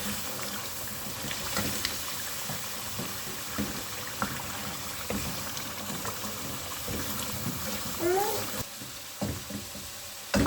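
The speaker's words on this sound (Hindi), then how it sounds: "अब हम इसको बहुत अच्छे तरीके से भून लेते हैं" Chicken karahi masala fries in a wok, giving a moderate sizzle broken by frequent scraping and clattering stirring strokes, with no voices.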